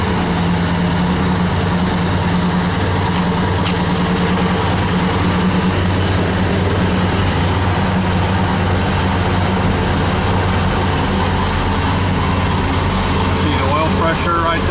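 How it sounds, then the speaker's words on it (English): An Oldsmobile Cutlass with a swapped engine runs on a cold start, its exhaust rumbling low and steady through aftermarket mufflers, recorded close with continuous loud droning. "I'll start it up and let you hear what it sounds like out the exhaust with these mufflers that I got on it."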